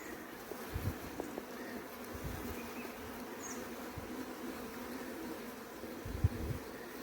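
Honeybees buzz steadily around a pile of thousands of dead bees, a soft continuous drone with a few individual bees passing close and some faint low thumps.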